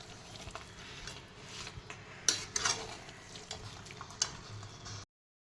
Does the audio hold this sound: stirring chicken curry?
yes